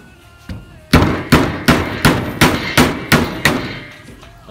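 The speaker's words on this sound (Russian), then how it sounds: "Пробуем отрезать кусочек кабеля" A forged Finnish puukko knife chops into a piece of cable with about nine sharp, evenly spaced loud blows, each a hard close thwack with a brief ringing decay.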